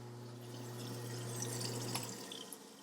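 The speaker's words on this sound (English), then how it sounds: "continue to run the water and let the garbage" Tap water runs steadily into a kitchen sink while a newly installed InSinkErator Badger 5/500 garbage disposal spins with a low hum, continuous and moderately quiet with no talking.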